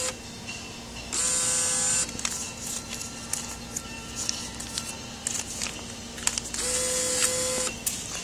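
Claw of an arcade claw machine moving over a pile of plush toys, giving two steady whirring motor runs with a high whine, separated by busy arcade clatter and electronic beeps in the background.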